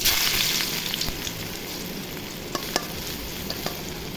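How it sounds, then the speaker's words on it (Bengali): Chopped onion fries in hot oil with fried dried chili and cumin. A steady, close sizzle hisses throughout, with a few faint clicks from stirring. "জিরা ভাজা হয়ে গেছে, এখন পেঁয়াজ কুচি দিয়ে দিব।"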